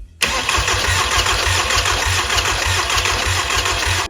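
A VW Passat B4 with a 2.0 AGG engine cranks steadily for about four seconds without spark, the starter churning in an even, rhythmic beat that never catches, loud and close.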